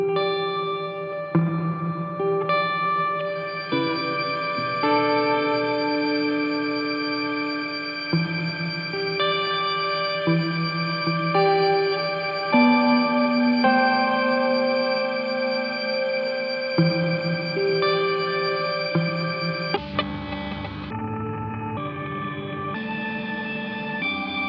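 A sustained, heavily processed guitar tone from a Chase Bliss MOOD pedal preset washes with echo and chorus, shifting through chords for about twenty seconds, then changes character near the end.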